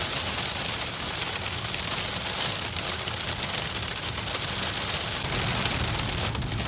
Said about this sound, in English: Hailstorm, yup, it gets crazier.